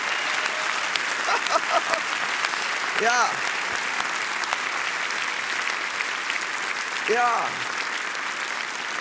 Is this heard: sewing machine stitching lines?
no